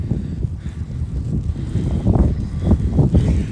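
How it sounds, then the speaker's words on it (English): Wind buffets the microphone in rumbling low gusts that swell and fade, loud and close, with no clear speech. "Oh, and it's windy. Sorry about the wind."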